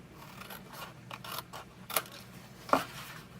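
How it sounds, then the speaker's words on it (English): Scissors cut through paper while a Stampin' Up! tall berry box is made, a few quiet close snips and rustles, the sharpest two standing out near the end. "I'm going to cut this one in half"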